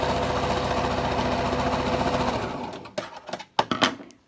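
Sewing machine stitching a fabric mask with short, wide stitches: a fast, steady mechanical whirring that runs for a couple of seconds, then stops, followed by a few scattered clicks and handling knocks.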